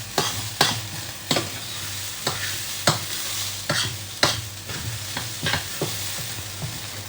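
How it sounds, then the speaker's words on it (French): Rice, split peas and spices fry in a pan while a spoon stirs them, giving about a dozen regular scraping strokes over a constant low sizzle, close and clear with no talking. "vous faites un peu revenir le riz et les pois cassés avec les épices"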